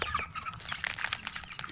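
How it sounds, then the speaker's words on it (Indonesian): Chickens cluck around a backyard chicken coop beside a house on a cattle farm, a series of short, moderately close clucks and squawks with light background noise and no speech. "ini jadi tempat kandang ayam."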